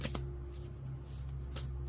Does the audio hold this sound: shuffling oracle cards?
yes